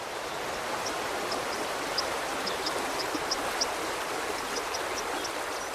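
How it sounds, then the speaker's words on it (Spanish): A karst spring river gushing in full snowmelt flow from inside a mountain, a steady, dense rushing roar of water with faint high chirps scattered above it, continuous and even throughout. "el agua mana a raudales desde el interior de la montaña"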